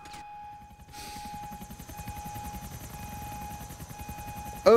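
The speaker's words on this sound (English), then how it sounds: "Oh no, not a helicopter." A helicopter in Grand Theft Auto IV hovers with a steady, rapid rotor chop and a constant engine whine, holding a fairly even level before a sharp louder burst at the very end.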